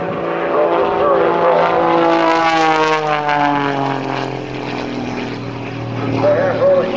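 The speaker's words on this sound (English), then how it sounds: "The airplane tumbling through the sky, still completely under control." Patty Wagstaff's aerobatic propeller airplane roars overhead at the 2005 NAS Patuxent River Air Expo, a loud buzzing engine drone with shifting pitch as it tumbles and rolls, with an announcer talking over it throughout.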